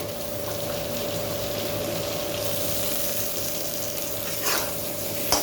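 Raw plantain frying in hot oil with turmeric makes a constant, close sizzling hiss with a faint steady hum beneath, swelling briefly near the end.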